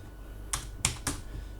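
A few sharp keystrokes tap on a computer keyboard while text is being added, three distinct clicks spaced over about a second with no talking.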